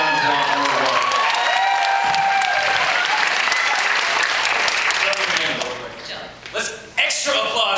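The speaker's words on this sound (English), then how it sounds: "Let's hear a round of applause." A movie audience applauds loudly and continuously, mixed with cheers and whoops, before the clapping thins out near the end as scattered voices come through.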